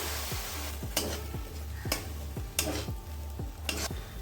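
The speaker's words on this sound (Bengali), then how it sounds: "বেসনটা দিয়ে এখানে একটু সামান্য জল দিয়ে দিচ্ছি নাহলে মশলাটা লেগে যাবে" Gram flour frying in masala with a splash of water sizzles in a pan, while a spatula scrapes through it in regular strokes about once a second, over a low background tone.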